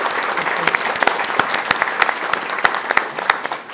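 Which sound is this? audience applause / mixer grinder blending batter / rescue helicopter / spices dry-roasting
audience applause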